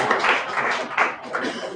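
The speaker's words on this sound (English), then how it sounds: "Clap for that system." An audience at a bank's internal audit breakfast claps in short bursts. Several pulses of moderately loud clapping rise and fall close by over a couple of seconds.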